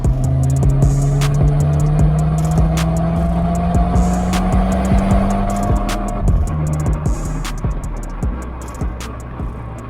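A 2019 Mercedes-AMG A35 all-wheel-drive hot hatch drives along with a loud, steady engine drone that rises slowly in pitch, shifts down, then climbs again, with a few faint ticks and knocks from the cabin.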